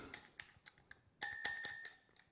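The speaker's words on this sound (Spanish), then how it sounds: "Es un timbre" A small bell from the Batti Burri board game rings in several quick metallic dings, preceded by faint handling taps, close and clear in a quiet room.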